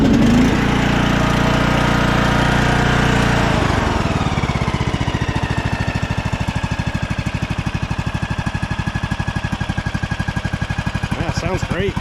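A Cub Cadet 1170 lawn tractor engine with a weak transmission cranks over with a jump pack attached, then catches and runs with a steady, loud, throbbing idle. The engine note is close and continuous, with a voice talking briefly over it.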